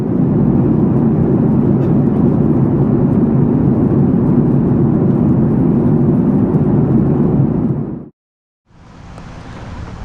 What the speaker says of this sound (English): everyday you spot your own plane landing